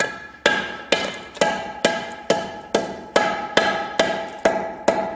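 A hammer breaks down a soft concrete hollow block with about eleven sharp, evenly spaced blows roughly every half second, loud and close, with no talking.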